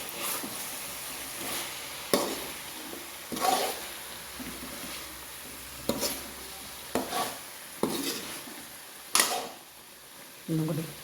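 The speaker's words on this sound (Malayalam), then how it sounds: "നമുക്കിതൊന്ന് ഇളക്കി യോജിപ്പിക്കാം." Chicken perattu is stirred and mixed in a pan. Separate scraping strokes come every second or two over a soft sizzle, close and moderately loud.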